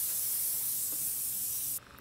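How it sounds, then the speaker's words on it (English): Sebastian Shaper hairspray sprays from an aerosol can in one continuous close hiss that stops sharply near the end. "So then I'm going to take some more of this hairspray. It's the Sebastian Shaper hairspray."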